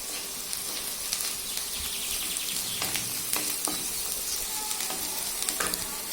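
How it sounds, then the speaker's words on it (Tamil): Chopped onions sizzle steadily in a hot pan with salt and asafoetida, close and continuous, with occasional scraping stirs and clicks of the spoon against the pan. "இப்போ வெங்காயம் வதங்கிருச்சு"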